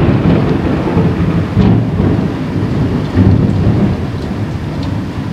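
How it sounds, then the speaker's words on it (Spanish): Loud thunder rumbles through a storm over steady heavy rain, with several deep booms rolling in and out close by and no voices. "No les miento, está lloviendo."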